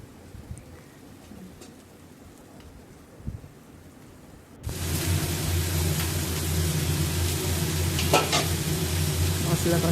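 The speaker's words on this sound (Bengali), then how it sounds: "মাছ অর্ধেক ভাজা হয়েছে অর্ধেক প্যানে" Fish sizzles loudly in a frying pan, a dense steady crackle that starts abruptly midway after a quieter kitchen stretch, close and continuous with a few sharper pops.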